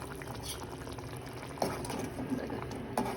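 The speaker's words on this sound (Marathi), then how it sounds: "कोथिंबीर घालून मला 2 मिनटं फक्त कोथिंबीर मिक्स होईपर्यंत 2 मिनटं बॉईल करून" Spinach and wadi bhaji with fresh coriander simmers in a pot, a steady low bubbling and liquid churn with a couple of brief clinks or stirs, close and moderately quiet.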